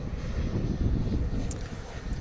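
An Embraer E175 jet at DFW airport produces a steady, fairly loud engine rumble, continuous and unbroken for the whole moment, with light wind noise.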